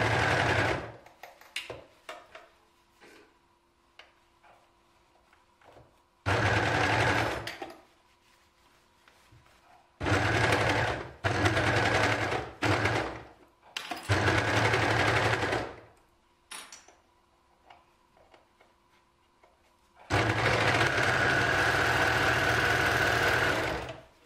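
Domestic sewing machine stitching leggings fabric, loud mechanical whirring runs of a few seconds each separated by quiet pauses with small handling clicks, close up and without talk.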